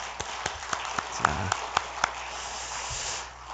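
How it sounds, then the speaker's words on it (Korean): A few sharp claps ring out in a steady, evenly spaced rhythm at a Friday night prayer meeting in a Korean church, sounding moderately close over a quiet, hushed room, then fading to soft background noise. "우리 박수 한번 할까요?"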